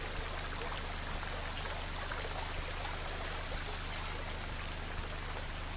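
Floodwater pours and trickles steadily through a drainage ditch where fire ants have built their nest, a continuous wash of flowing water with faint droplet patter and a low steady hum underneath, no voices.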